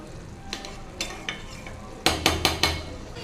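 Beetroot biryani with lemon juice is mixed in a pot with a spoon. A few scattered scrapes and taps come first, then a quick run of four sharp, close strokes against the pot.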